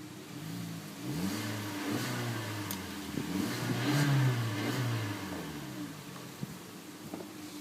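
A 2011 Hyundai Elantra's 1.8 liter engine revs several times outdoors in wind, each rise climbing fairly slowly and easing back down, steady and moderately loud with no talking.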